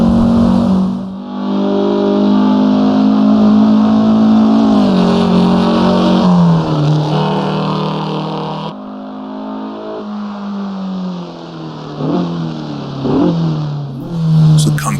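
Race car lapping the Nordschleife-style Feldberg Ring in the Assetto Corsa sim, its engine revving up and down loudly through gear changes and corners, a sustained close roar with no voices.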